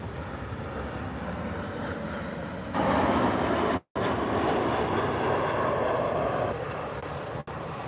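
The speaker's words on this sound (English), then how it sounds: "Not a bad landing there from the Ryanair." A Ryanair airliner, likely a Boeing 737 Max 8, lands at Birmingham Airport with a steady broadband jet roar that swells louder midway, then holds and eases slightly. No one speaks.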